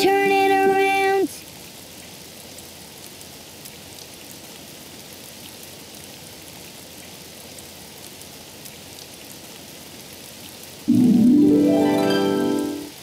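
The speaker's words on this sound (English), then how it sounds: "Oh, it's raining outside." Steady rain falls in a children's animated show, a soft, even hiss that runs through the middle of the scene, with brief music at the start and end.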